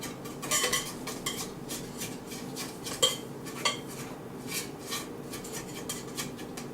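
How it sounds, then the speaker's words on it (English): Carrot cake batter gets mixed in a bowl, with soft scraping and intermittent clinks of a utensil against the bowl at a steady pace, close and fairly quiet, with no talking. "Now we're mixing good."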